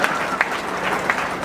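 An audience in a hall at an awards and career guidance event keeps clapping in a dense, even patter, with a few sharper individual claps standing out from the crowd.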